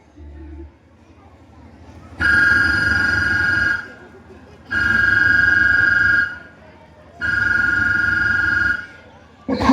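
A telephone rings in three long, loud electronic bursts separated by short pauses, with another ring starting at the end.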